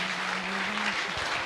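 A church congregation claps hands together in a dense, continuous burst of applause, loud and close, with faint voices under it.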